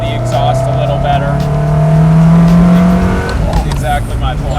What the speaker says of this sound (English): The manual gearbox, you can control the revs, so you can hear the exhaust a little better.